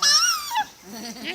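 A small child imitates a cat with a high, wavering meow-like cry, close and fairly loud, followed by a softer adult voice speaking.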